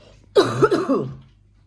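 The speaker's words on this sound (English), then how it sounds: "my cough, after a little bit over a week, has turned into a wet cough." A single wet, phlegmy cough close by from a person with COVID, a heavy chesty burst trailing into a rattly exhale, with quiet around it.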